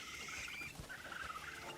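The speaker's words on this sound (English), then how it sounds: "No, that's a hedgehog." A small hedgehog critter in Crimson Desert rustles and squeaks in soft, brief patters, faint and close against a steady ambient hiss, with no voices.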